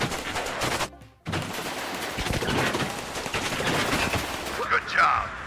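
Rapid gunfire crackles through a Warno battle scene, dense automatic bursts with a brief gap near the start, then continuing steadily with a few sharper cracks toward the end.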